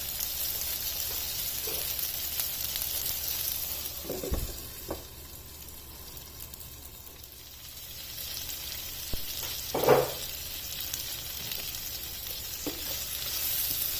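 A steady, even sizzle of onion, tomato, garlic and ginger cooking under a lid over a low flame for a palak paneer base, continuous and close, with a few faint clinks and soft bumps.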